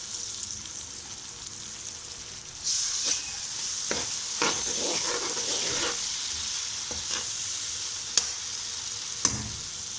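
Green chillies, red chillies and tomatoes fry in a pan with salt, a constant bright sizzle broken by several stirring scrapes and clacks of a spoon, close and fairly loud, with no voices.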